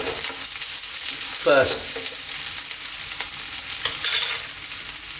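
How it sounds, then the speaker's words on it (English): Carrots hit a hot pan for a chicken chow mein stir fry, raising a steady, close sizzle that runs throughout, with a brief louder hiss and clatter as they land. "I'm going to pop in my carrots now."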